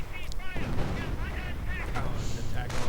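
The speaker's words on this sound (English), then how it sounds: "He's basically hammering it with mortar fire." Mortar and artillery fire booms repeatedly in a World War II strategy game, with heavy thuds and blasts rolling under a commentator's voice.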